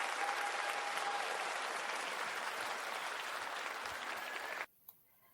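An audience gives a sustained round of applause, a broad wash of clapping that cuts off abruptly near the end, leaving near silence and one small knock.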